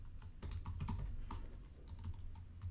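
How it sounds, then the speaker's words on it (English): Keystrokes on a computer keyboard while SQL Server data access code is entered, a quiet run of uneven clicks and taps at close range over a steady low hum, with no voices. "I'm going to go ahead and just type in"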